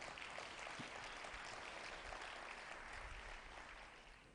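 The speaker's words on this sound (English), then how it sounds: "it's nice to hear people clapping" An audience at a business conservation conference applauds, a steady wash of many hands clapping at a distance that holds evenly and then tapers off toward the end.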